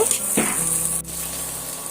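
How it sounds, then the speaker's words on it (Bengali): Tomatoes and onions fry with dried red chillies in a pan, giving a steady sizzling hiss with a brief stirring scrape partway through, close and moderately loud. "আমি সমস্ত টমেটো আর পেঁয়াজটা আমি লঙ্কা দিয়ে সুন্দর করে ভেজে নেব"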